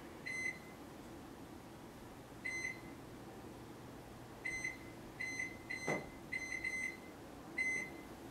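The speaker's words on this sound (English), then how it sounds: "I'm going to set the timer for 12 minutes" Kitchen timer beeping in short electronic bursts as it is set for 12 minutes: single beeps, then a quick cluster of several more, fairly close and clear over a quiet room hum.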